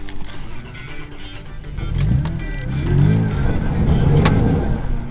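A vehicle's engine rumbles close by as it crosses a rough little drop near Lake Powell, rising in strength midway and staying loud with rough mechanical strain to the end.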